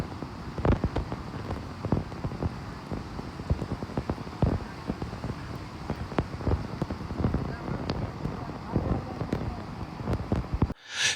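Heavy rain pours steadily during severe flooding in Geoje, South Gyeongsang, South Korea, a dense continuous hiss with scattered louder drops and splashes throughout.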